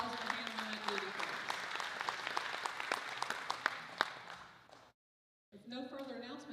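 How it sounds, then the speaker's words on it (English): An audience claps steadily for several seconds at a community gathering, a dense patter of hands that fades out before a brief silence and a voice starting to speak. "please give him a large round of applause for handling that duty for us"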